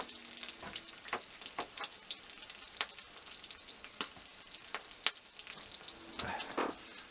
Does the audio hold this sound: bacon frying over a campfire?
yes